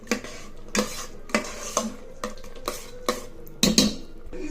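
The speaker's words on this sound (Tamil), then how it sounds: "இப்போ இதை நல்லா ஒரு கலக்கிட்டு மூடிடலாம் ஃப்ரெண்ட்ஸ்" Spoon stirring rice ghee upma with coconut in a metal pot, repeated scraping clinks about every half second to second, fairly close and moderately loud, no voices.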